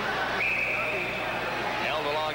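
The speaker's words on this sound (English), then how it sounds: "they finally do get a whistle" A referee's whistle blows at an ice hockey game, one long, steady shrill blast heard over constant loud arena crowd noise.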